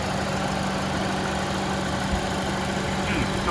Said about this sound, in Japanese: 特に変な音もしてないですし、まあ、エンジンの振動も至って普通な感じですね。